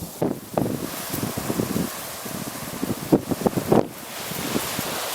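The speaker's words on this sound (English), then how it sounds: "as you can tell, the wind has picked up" Gusty wind buffets the microphone outdoors on an open Kansas plain during a pronghorn archery hunt, rising and falling in loud rushing bursts with no talk.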